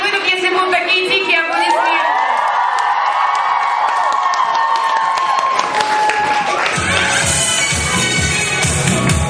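Audience at a children's talent festival cheering and shouting, rising into applause and clapping toward the end, loud and crowded with voices throughout.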